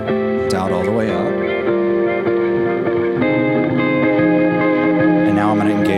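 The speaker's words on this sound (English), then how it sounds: "Echo and the reverb dialed all the way up." An electric guitar runs through an effects pedal with echo and reverb turned all the way up, giving sustained, layered tones that ring and wash into one another, loud and continuous for the whole stretch.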